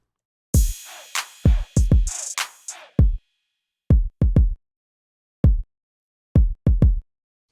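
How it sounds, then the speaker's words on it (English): Dry, unprocessed kick drum hits from a Maschine, deep thuds with short decays in an irregular pattern, some in quick pairs and triplets, separated by silence. "So the regular kick sounds something like this here"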